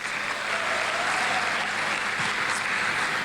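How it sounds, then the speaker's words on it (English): Dense, steady audience applause for award nominees on a live television show stage, loud and sustained for the full stretch with no voices on top. "Big round of applause for our nominees."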